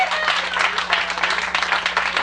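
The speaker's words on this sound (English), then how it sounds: "So if we could please give a big West Bank round of applause to Mr." Dense, steady applause from a comedy club audience at a live show at the West Bank Cafe in 1990, sustained clapping filling the room with a constant low hum underneath and no voices standing out.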